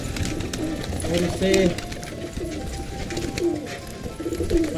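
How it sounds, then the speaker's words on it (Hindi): Pigeons coo on a rooftop ledge, a few low soft calls heard nearby against background noise, with someone talking briefly over them. "भाई सारे मुंडेर पे चढ़ चुके हैं कबूतर अपने"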